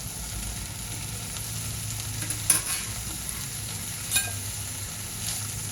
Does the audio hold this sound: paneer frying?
yes